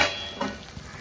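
Kara kuzhambu, a tangy gravy tempered in sesame oil with fenugreek and mustard seeds, sizzles and bubbles softly in a pot, with faint stirring and no voices in a brief moment.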